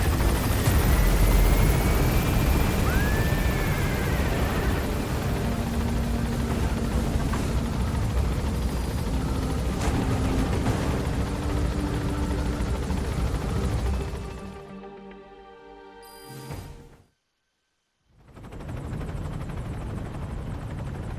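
Helicopter in Metal Gear Solid V climbing with a loud, steady rotor roar and engine wash that fades and cuts out briefly near the end before returning.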